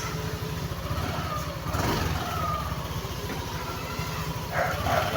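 A Yamaha Aerox scooter engine idles while warming up, giving a steady low putter close by with a faint voice and a small rise near the end.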